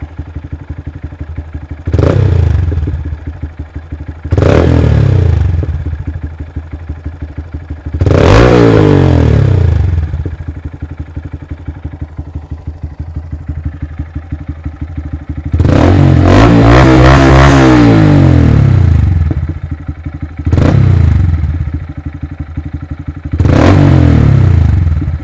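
A 2019 Honda Grom motorcycle fitted with a Yoshimura RS-2 exhaust, warmed up, revs in a series of six loud, sharp bursts separated by a lower idle, including one longer sustained rev; no talking.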